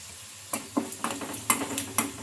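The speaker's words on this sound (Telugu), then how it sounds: "ఈ మసాలాలన్నీ పచ్చి వాసన పోయే వరకు అయితే ఫ్రై చేసుకోవాలి" Whole spices fry in a pan for a potato snack masala. Light sizzling sits under a steady run of spoon scrapes and taps against the pan, about two strokes a second, close and moderately quiet.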